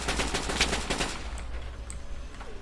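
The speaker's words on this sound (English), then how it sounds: "right mouse button is the machine gun" Rapid machine gun fire in the World War II shooter Hell Let Loose, a dense burst of rounds for the first second or so, then easing off into scattered distant shots and a faint background rumble.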